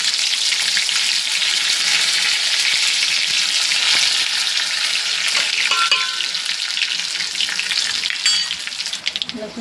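Garlic and curry leaves fry in hot oil with mustard seeds, crackling and sizzling steadily with occasional stirring scrapes, then tapering toward the end.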